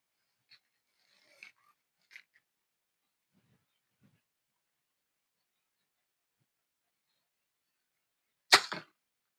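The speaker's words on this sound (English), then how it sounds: "I'm going to try to show you some proper archery form and do a 3 or 4-shot group." A single sharp compound bow arrow release and thwack into a target rings out near the end after long quiet, preceded by faint scattered rustles and clicks.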